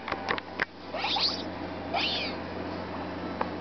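A female Meowstic cries twice in the Pokémon Amie game mode: short, bright, synthesized cat-like meows over soft clicks and a faint background hum.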